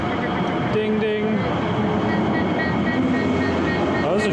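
A short train passes in the Altstadt video game, a steady rolling rail rumble with a few tonal squeals, heard continuously under talk.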